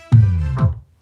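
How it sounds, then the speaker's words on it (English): Two sustained brass-like chords from a MIDI brass section, the second swelling in shortly after the first, low and full, then fading out. "I also added some brass."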